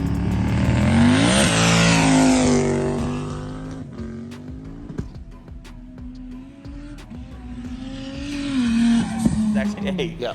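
An 800 horsepower RB-powered street car drifting, its engine revving hard and rising in pitch with tyre squeal and skidding, fading and then swelling again as the car slides past.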